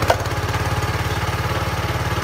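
Small gasoline engine on a BWM wood splitter running steadily after being started, a loud, even low chugging with rapid regular pulses, close by and alone.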